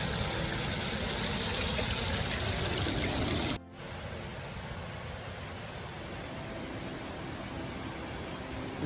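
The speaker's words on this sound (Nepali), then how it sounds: "यस्तोमा चाहिँ के भिरबाट चाहिँ पानी निस्किरहेछ" Water pours from a rocky cliff face on a mountain trail, a steady broadband rush that cuts abruptly partway through and continues more softly afterward, with no voices.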